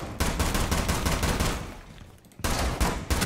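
Rapid automatic gunfire rattles in a first-person shooter round of Rainbow Six Siege, loud and continuous bursts with a brief lull before firing resumes.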